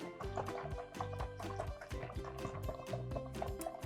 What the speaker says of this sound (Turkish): Ve sonrasında suyumuza deterjanımızı ekliyoruz. Bunu köpürtüyoruz.